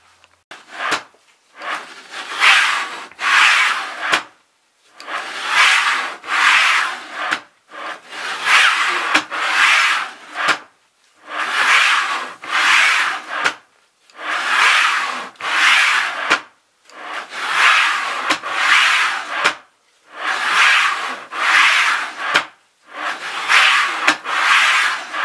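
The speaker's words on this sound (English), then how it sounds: "hopefully this spindle sanding is entertaining" Spindle sander shaping wooden needles for needle binding: repeated rasping, rubbing strokes of wood against the abrasive drum, about a dozen bursts in a steady rhythm with brief gaps between, close and loud.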